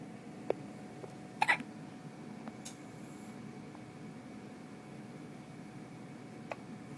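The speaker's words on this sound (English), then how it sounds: "So then I want these hiccups to go away." Small hiccups from a little boy, a few sharp isolated hiccups spread across a quiet room, one stronger double burst near the start and fainter ones later, with no talking.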